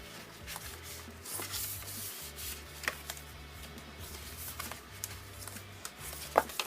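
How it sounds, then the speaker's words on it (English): Cardboard folds of a flat-packed box being burnished, a steady dry rubbing and scraping with irregular strokes and a few sharper ticks, close and moderately quiet with no talking. "We'll just burnish these."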